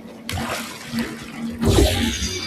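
Blue paint gel in the Portal 2 video game splashes and washes away as a watery gush, a rushing swell that starts, eases slightly, then surges louder near the end.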